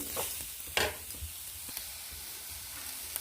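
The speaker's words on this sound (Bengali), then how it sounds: "তো এখানে আমি একটা নারকেল নিয়েছি আর 200 মতো চিনি দিয়েছি, দিয়ে এটা একটা পুর তৈরি করে নেবো নেড়ে চেড়ে।" Grated coconut and sugar are stirred in a pan to cook a sweet filling, with a low sizzle and occasional scrapes of the spoon.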